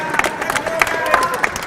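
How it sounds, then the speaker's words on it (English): Crowd at a WRO International Final robotics competition cheers and claps after a round, a steady wash of applause with scattered shouts close by. "Everyone's cheering for them because they did actually a really good job."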